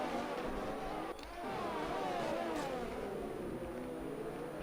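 Race cars in the F1 2020 video game at Monza heading toward Curva Grande, a Red Bull battling Ferraris, with steady high engine whine and a pass sweeping by at mid distance, fairly quiet, no talk.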